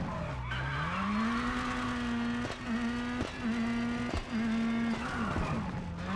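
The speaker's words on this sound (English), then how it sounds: "Getting quite a bit of locking of the brakes. And quite a bit of sliding as well." A rally car in the WRC video game in Chile, its brakes locking and tires sliding, gives a steady, loud engine drone with long tire squeals and skids and a few sharp breaks, all close and continuous.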